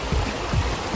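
Steady broadband rush of a river stream flowing along a path home near Zakopane, with soft low gurgles rising and falling throughout.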